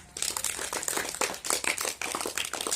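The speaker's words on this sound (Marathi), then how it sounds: "तिच्यासाठी सगळ्यांनी एकदा जोरात टाळ्या वाजवायच्यात" A group of children clapping for a girl before her yoga pose, a quick burst of loud, uneven applause from close by, continuous for nearly three seconds.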